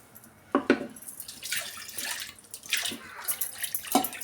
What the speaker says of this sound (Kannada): ನಾನು ಜಾರು ತೊಳೆದು ನೀರು ಸೇರಿಸ್ತಾ ಇದ್ದೀನಿ.